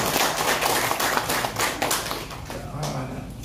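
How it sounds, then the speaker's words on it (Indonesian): Audience clapping at a year-beginning sharing session of the Harianja clan, a close, dense burst of hand claps lasting a few seconds and fading slightly toward the end. "Boleh tepuk tangan?"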